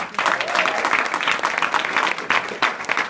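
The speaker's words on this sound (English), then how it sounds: "I want everyone to give yourselves a round of applause for making the commitment to be here." Audience applause fills a conference-style pre-launch event, a dense, steady wash of clapping hands that stays loud throughout with a brief swell near the end.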